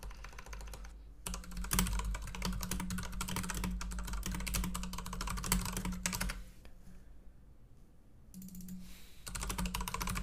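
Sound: typing on a computer keyboard

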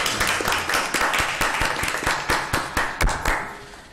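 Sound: audience applause

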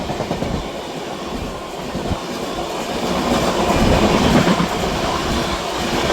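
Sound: train passing and overtaking

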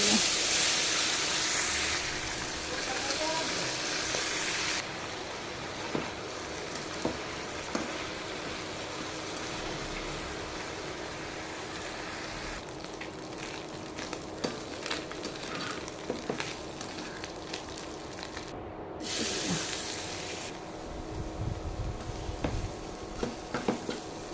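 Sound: small chanda fish frying in a pan

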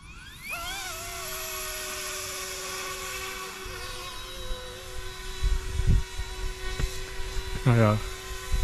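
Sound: EC135 Eurocopter model helicopter auto landing

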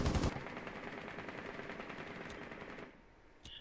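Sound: gunfire in Rainbow Six video game

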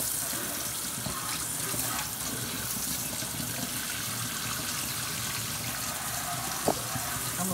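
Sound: sink being rinsed out with running tap water

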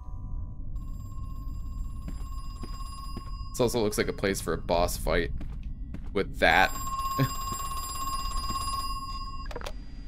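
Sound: telephone ringing in the video game Crow Country

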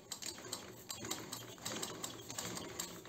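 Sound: umbrella sewing machine stitching thin fabric

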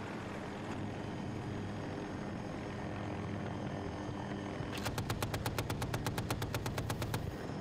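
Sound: helicopter air support gunfire in a video game

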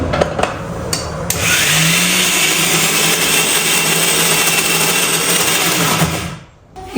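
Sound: mixer grinder grinding lentils for dahi vada

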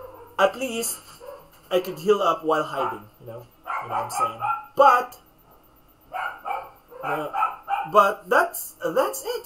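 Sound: dog barking

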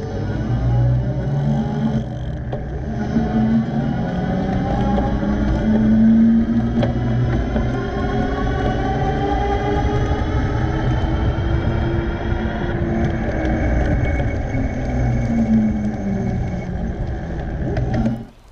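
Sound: Revi Bikes Rebel 1.0 e-bike motor starting and stopping while pedaling

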